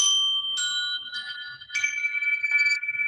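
Metal chimes ring out in several overlapping strikes, each clear tone lingering and blending with the next, bright and close, with no speech.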